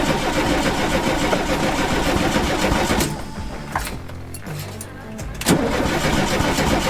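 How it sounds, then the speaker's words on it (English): A 1981 VW T25 Devon campervan engine cranks and tries to start: a loud continuous churning starter whir, a brief dip midway with a clattery pause, then cranking resumes, close and with no talk over it. "The fuel pump is just making too many different noises."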